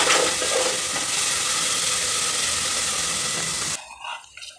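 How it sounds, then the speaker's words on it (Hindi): Onions fry in a pan, a loud, dense sizzling hiss close by that holds steady for several seconds before cutting off abruptly to quiet, with a few faint clatters after. "प्याज को भूनेंगे कुछ देर के लिए"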